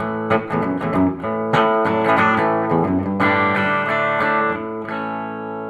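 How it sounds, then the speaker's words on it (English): A twangy clean guitar tone from a Fender Deluxe 112 amplifier, with bright plucked single notes and chords ringing out in a quick rhythmic phrase, close and clear with no talking. "You can also get it to twang, something like this."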